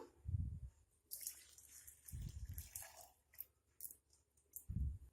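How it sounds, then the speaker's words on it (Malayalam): Thick jaggery syrup is poured in a few soft, wet glugging bursts, quiet and close, with faint clicks and drips between them. "അതിലേക്ക് ശർക്കരപ്പാനി ഒഴിക്കാം."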